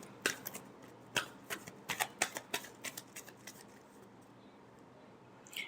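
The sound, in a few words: shuffling tarot cards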